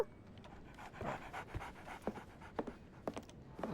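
A dog pants rapidly and close in the Sherlock Holmes game, a steady run of quick, breathy huffs with a few louder puffs, heard alone without talk.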